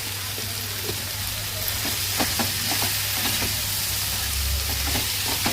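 A spiced cauliflower curry being stirred and frying in a pan, with steady close sizzling and intermittent soft scraping strokes of a spoon, under a constant low background hum.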